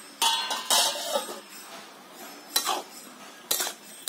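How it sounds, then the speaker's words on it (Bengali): A lid lifted off a cooking pot while making a sweet ash gourd and coconut ghonto, giving a few close metallic clinks and scrapes spread over a few seconds, with no voices. "আমি ঢাকাটা খুলে নিচ্ছি"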